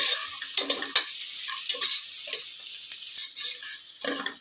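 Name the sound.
onions being tossed and fried in oil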